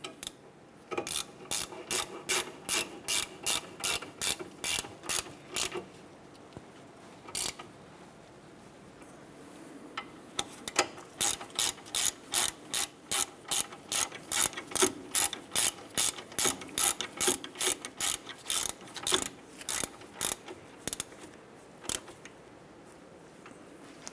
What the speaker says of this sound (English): Just torque down our caliper bracket bolts to 80 foot-pounds.